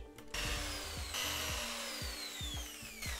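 A power drill bores holes in wood while building a manga-themed advent calendar. The steady motor whine runs throughout, with repeated low thumps as the bit bites. The drilling is close and loud, with no talking.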